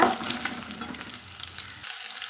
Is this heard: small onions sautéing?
yes